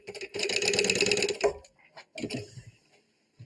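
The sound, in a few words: sewing machine sewing across binding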